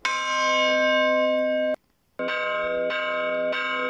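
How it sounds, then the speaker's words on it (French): Church bell tolling a funeral knell, a loud ringing strike with a long sustain, a short silence, and then another strike that rings on with fresh pulses layered into it. "C'est le cas du glas, sonnerie funèbre par excellence."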